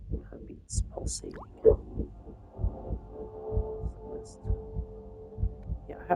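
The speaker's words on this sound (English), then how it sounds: "Heartbeats pulsating." A heartbeat thumps in the video game Legacy of Kain: Blood Omen 2, low and steady in a regular pulsing rhythm, with a faint hum and a few brief higher sounds over it.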